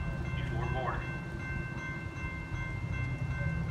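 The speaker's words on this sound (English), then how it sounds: "The next inbound Metro train to Chicago is now arriving in your station." An inbound Metra commuter train pulls into the Riverside, Illinois station, a steady low rumble of rolling cars with faint tonal hums, heard at a moderate distance with no talk over it.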